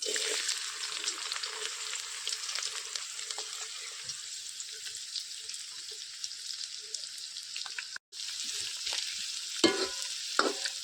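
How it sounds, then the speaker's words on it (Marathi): Onions sizzle and crackle steadily in hot oil, with occasional stirring scrapes and a brief pause before the frying continues. "तर मी आता फोडणी टाकून घेते"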